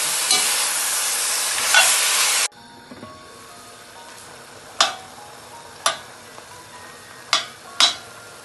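Carrots cooking in a pan for Jamaican oxtail: a loud sizzling hiss at first, then cut to quieter simmering with a few sharp clinks and taps of a utensil against the pan.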